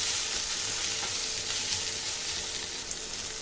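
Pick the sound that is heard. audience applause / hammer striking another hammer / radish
radish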